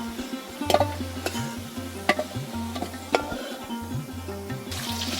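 Potatoes frying in oil in a wok, stirred with a utensil: a steady sizzle under repeated scraping clacks and taps against the pan, close and continuous.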